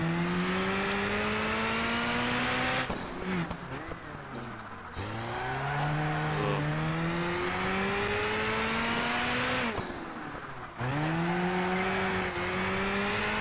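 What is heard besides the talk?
turbo car engine in video game Project Gotham Racing 4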